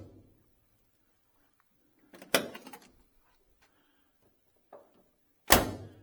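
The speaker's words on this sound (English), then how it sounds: "Doors just snap shut." Car doors on a restored 1967 Chevelle SS shut with two sharp, solid thunks a few seconds apart, plus a smaller click between them, in an otherwise quiet space.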